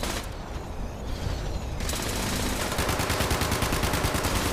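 Dense sustained gunfire in the video game Fallout 76, loud and close, with a rapid machine-gun rhythm building to a steady hammering burst through the second half.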